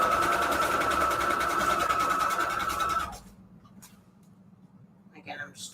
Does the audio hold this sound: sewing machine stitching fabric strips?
yes